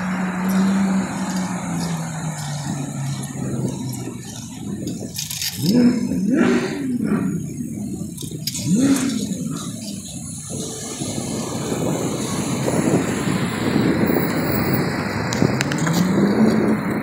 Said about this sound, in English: That's a Ferrari.